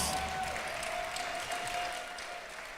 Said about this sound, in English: I think we need to give Mr. Saccone Scott a big round of applause.